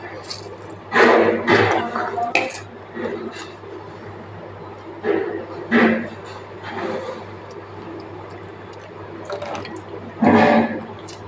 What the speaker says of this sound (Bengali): এবার এটাকে ভালো করে নিগড়িয়ে নেব যাতে জল না থাকে